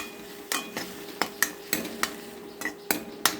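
Spices with a bay leaf cook in a pan under a low sizzle while a spoon stirs in regular scraping strokes, clinking against the metal roughly every half second, close and fairly quiet.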